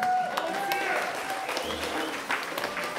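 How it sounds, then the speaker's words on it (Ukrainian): Wedding guests at a celebration in Ukraine give a fairly quiet round of applause, scattered clapping mixed with overlapping voices and some music-like tones in the background. "Давайте ще раз оплески."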